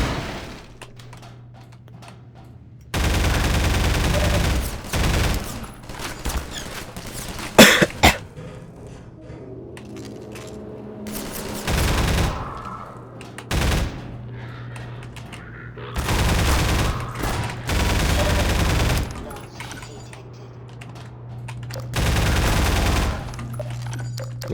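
Shotgun gunfire in the video game Half-Life 2, several loud booming blasts in separate bursts with quiet gaps between them, some shots coming in quick pairs.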